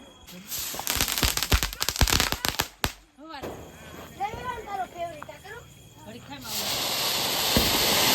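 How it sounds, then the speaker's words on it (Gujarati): A 'mercy bomb' firecracker bursts at a family Diwali celebration. A rapid string of sharp cracks and pops is followed by a long hissing spray, while people talk and shout excitedly in between. "જો મરસી બોમ્બ ફોડે"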